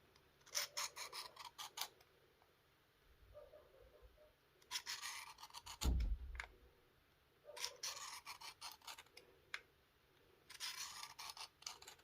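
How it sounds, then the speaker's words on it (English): Coarse-grit passes of a knife on a WorkSharp Field Sharpener give repeated bursts of dry rasping scrapes, several strokes grouped with brief pauses between sets, close and fairly quiet with one louder knock partway through. "we did about 10 passes on each side with the coarse grit"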